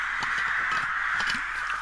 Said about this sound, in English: Can someone shoot those crows